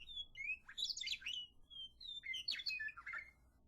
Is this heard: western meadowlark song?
yes